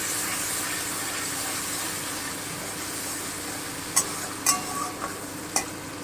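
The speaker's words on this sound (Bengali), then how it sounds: "গোলমরিচ আর কাঁচা লঙ্কার পেস্টটা দিয়ে দিচ্ছি। আমি হালকা একটু ভেজে নিচ্ছি।" A black pepper and green chilli paste fries lightly, making a soft, constant sizzle, and a few sharp utensil clinks come near the end with no voices.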